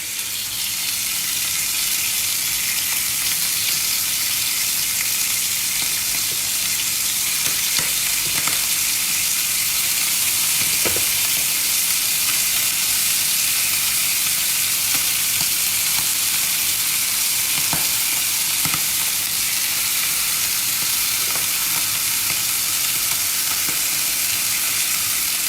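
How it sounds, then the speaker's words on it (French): Squid sears in smoking-hot olive oil in a pan, a loud, continuous sizzle and crackle that holds steady throughout, with occasional faint clicks of utensils against the pan. "là je vais venir poser les encornets"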